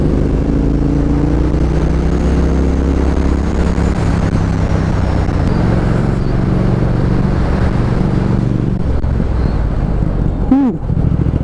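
A Triumph Thruxton R motorcycle ridden on the road in road mode, with a steady low engine drone and rumble under heavy wind buffeting, the pitch shifting with speed; a voice talks over it.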